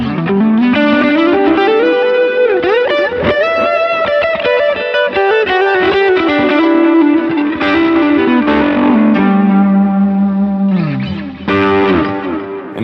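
Electric guitar played through an Aspen overdrive and the blue side of a Protein pedal, a thick, saturated driven tone with sustained chords and melodic notes, loud and continuous with no talk.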